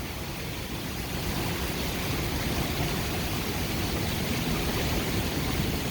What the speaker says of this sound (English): Look at all that water pouring out onto the lawn.